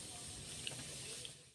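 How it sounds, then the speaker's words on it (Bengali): White cumin seeds dropped into hot oil in a wok give a steady, close hiss of sizzling that holds evenly throughout, with a couple of small pops rising above it. "আমার তেলটা গরম হয়ে গেছে, আর আমি এখানে 1 চামচের মতন সাদা জিরে নিয়েছি। আমি জিরেটা দিয়ে দিলাম।"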